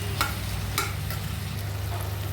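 Tomato masala is stirred in a pan, with a few soft scrapes over a low steady sizzle and hum, close by and with no talking.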